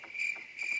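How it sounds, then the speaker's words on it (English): Cricket chirping played as a comic sound effect: a steady, shrill insect trill that pulses in two quick bursts, close and fairly loud, with no voices over it. "I just got to play the crickets."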